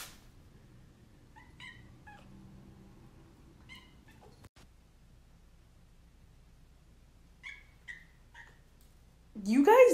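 Pet cats meowing at home, a few short high calls spread across the recording with quiet gaps between them, and a louder burst near the end; a person's low voice talks softly underneath during the first half.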